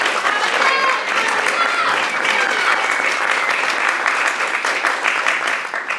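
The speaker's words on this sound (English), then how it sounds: "Everyone, clap your hands!" A theater audience claps their hands together in a dense, sustained burst of applause that stays loud and even, with a few voices faintly mixed into the crowd noise.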